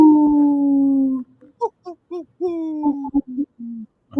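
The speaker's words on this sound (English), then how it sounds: "That sounds more like an owl than a wolf" A wolf howl played on a radio broadcast: one long, steady, tonal howl of about a second, then a run of shorter, wavering howls and yips that rise and fall, fairly close and clear, with no talk over it.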